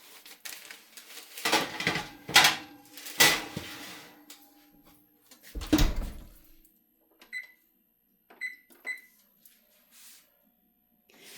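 A tray holding 24 cookies is slid into a home oven, with clattering handling noises and a low thump near the middle, followed by a few short, faint beeps of the oven controls.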